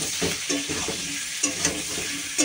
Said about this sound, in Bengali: সবজিটা সাঁতলে নিই।